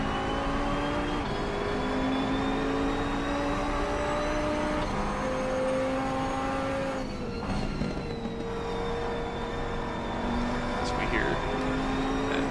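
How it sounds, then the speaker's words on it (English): A KTM GT2 race car at Oulton Park drones loudly on track as it warms its tires, its engine note stepping up and down through gear changes with a brief dip midway, and a voice talks over it. "GT2 roar to life as it gets these tires warmed up"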